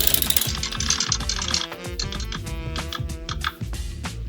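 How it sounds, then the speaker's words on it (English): A circular sock knitting machine is cranked around by hand, giving a fast, dense clatter of needle clicks that runs steadily and loudly throughout, with no talking. "now you're going to go ahead and crank around until the yarn feeder is behind the out of work needles"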